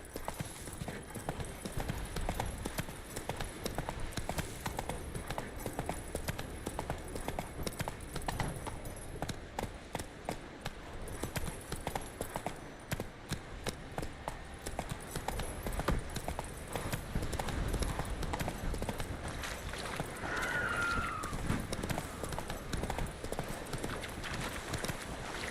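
Roach the horse gallops in The Witcher video game, a steady rapid clip-clop of hooves running continuously and close for the whole stretch, with a brief whinny-like call partway through over a constant background bed.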